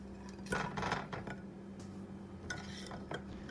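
Paneer strips stirred into a spice marinade in a bowl, the utensil scraping and clinking against the dish in a couple of close, moderately quiet bursts with softer scraping between, no talk.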